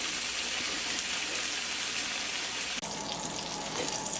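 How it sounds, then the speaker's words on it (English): Homemade bacon sizzles and crackles steadily while frying in a pan, a loud, dense, continuous hiss close up with no talk. "can you hear that sizzle?"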